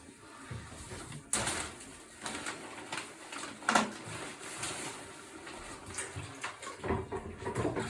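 Water splashing and running while a bathtub is scrubbed clean, uneven sloshes and scrapes at close range with a bird cooing in the background.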